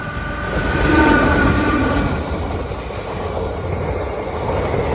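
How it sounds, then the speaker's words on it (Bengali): A train rumbles past close to a house, a loud continuous roar of wheels and rail noise filling the whole stretch, swelling and then holding steady. "এই ট্রেন।"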